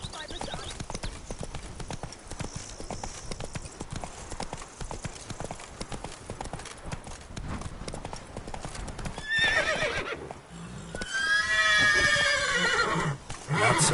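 Roach the horse galloping in The Witcher 3, steady hoofbeats pounding throughout, then a loud whinny and further neighing near the end, with talk over parts of it.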